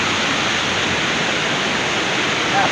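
Fresh river water rushing beneath a hanging bridge: a loud, steady, unbroken roar of flowing water fills the entire span with no pauses and no voices.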